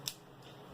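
A single sharp snip of scissors trims fishing leader line, followed by quiet room tone.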